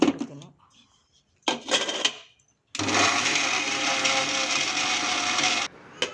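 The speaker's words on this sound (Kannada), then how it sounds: "ಉಪ್ಪು ಒಂದು ಸ್ವಲ್ಪ ಖಾರ ಪುಡಿ ಹಾಕ್ಕೊಂಡು ಮತ್ತೊಂದು ರೌಂಡ್ ಮಿಕ್ಸಿ ಮಾಡ್ಕೊಂಡ್ಬಿಡ್ತೀನಿ." A kitchen mixer grinder whirs steadily for about three seconds, blending flaxseed chutney with salt and chili powder, after short bursts of clatter and handling noise.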